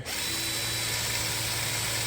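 A power drill bores through a bolt on the emergency brake of an 84 Toyota pickup, a steady continuous whine with a low hum, close and constant throughout.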